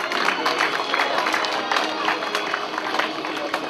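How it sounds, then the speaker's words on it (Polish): A crowd claps and cheers for a boys' school-category winner at an orienteering race, a loud continuous rattle of many hands with some crowd noise mixed in. "Duże brawa."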